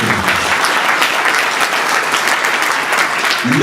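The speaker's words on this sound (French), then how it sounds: "Je vous demanderai d'applaudir très fort cet ouvrage." An audience bursts into sustained applause, dense clapping from a crowd at a book presentation holding steady and loud from start to finish.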